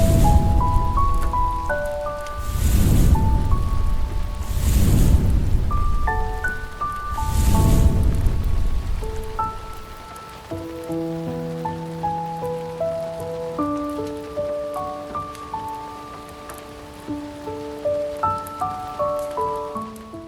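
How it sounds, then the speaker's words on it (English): Soft rain ambience in the break room of the Roblox game Eternal Tower of Hell, a steady patter swelling in waves beneath gentle melodic game music that carries on after the swells ease. "chill with the music of rain"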